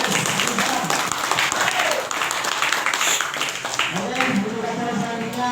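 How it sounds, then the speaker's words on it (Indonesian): An audience applauds at a communal fast-breaking gathering in Aceh, a steady wash of clapping that fills the whole stretch while voices carry over it. "tepuk tangan"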